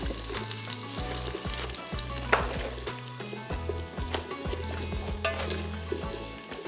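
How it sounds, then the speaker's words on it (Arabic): A soup base fries in a pan, with a steady sizzle and crackle and occasional stirring scrapes, close and moderately quiet, no talking. "نحب المرقه تاعي نحب نقليها قبل ما نمرقها"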